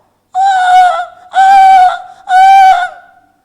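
Three drawn-out, high whimpering cries from a mouse-deer in a row, each about half a second apart, loud and close, like an animal wailing for help.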